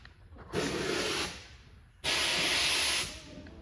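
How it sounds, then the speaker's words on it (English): A commercial steamer hisses out steam in two strong bursts, each about a second long and separated by a short pause, loud and close with no voices. "Got the steamer in here, getting her nice and dialed in."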